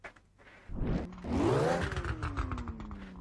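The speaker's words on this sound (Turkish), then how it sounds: "egzozun hani popcorn sesi daha çok biraz az geliyor" A car's exhaust in the Live for Speed racing game revs up and falls away, with popping, crackling backfire bursts scattered through the loud engine note.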